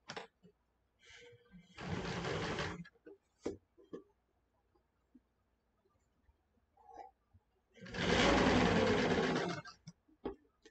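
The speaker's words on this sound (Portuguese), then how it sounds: "Aí você passa a costura bem na beirinha." A sewing machine stitching along the edge of fabric for a shawl, running in two close, steady whirring bursts with quiet pauses, small handling clicks and a few soft murmured words between them.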